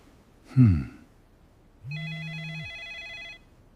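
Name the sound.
telephone ringing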